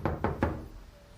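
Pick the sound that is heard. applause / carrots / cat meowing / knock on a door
knock on a door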